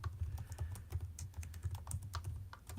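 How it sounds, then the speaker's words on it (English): Rapid, steady keystrokes on a computer keyboard patter close by during a live stream, soft but continuous with no talking. "It's hard to talk and type at the same time."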